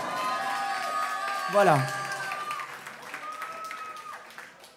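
Concert audience at Le Reservoir in Paris clapping and cheering in a live music venue, a moderate crowd wash that someone speaks over briefly before it gradually thins out.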